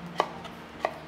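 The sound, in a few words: knife slicing vegetables thinly on a diagonal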